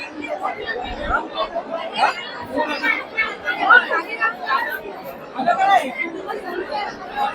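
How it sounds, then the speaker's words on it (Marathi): Dense chatter from a large crowd of devotees at the Kelamba Devi temple festival in Kharoshi village, Pen, a steady close babble of many overlapping voices with no pauses. "आज गर्दीचा प्रचंड कल्लोल आहे"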